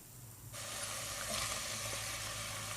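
Tomatoes hit a hot pan and a bright sizzle starts abruptly, then holds as a steady, fairly quiet hiss of frying.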